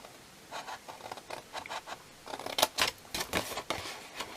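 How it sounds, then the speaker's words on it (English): Sticky scissors snipping cardstock for a tall gift box, a string of short crisp cuts and rasps, irregular and close, growing a bit louder toward the end. "I think my scissors are a little bit sticky."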